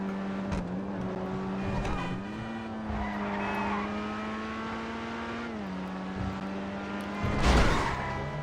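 A car in GTA 5 Online drives with heavy oversteer, its engine droning steadily with pitch shifts as it revs, with tire noise and a louder surge near the end, under faint background sound.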